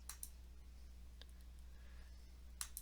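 Computer mouse clicks on a website tab: a few faint, sharp clicks, one pair at the start, a single one in the middle and another pair near the end, over quiet room hum.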